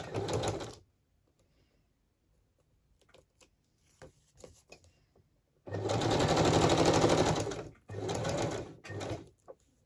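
A sewing machine straight-stitching through the layers of a handmade envelope journal, with a short whirring burst at the start, then a long steady run and a shorter one after a pause broken by light handling clicks.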